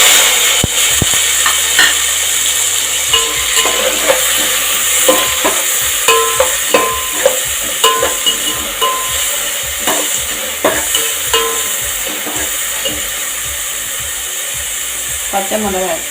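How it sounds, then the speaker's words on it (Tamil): Tomato and drumstick stems sauté in a pan with cloves and cinnamon, a loud steady sizzle running throughout with a regular series of spatula scrapes and taps against the pan. "இந்த மாதிரி நல்லா வதக்கிடுங்க"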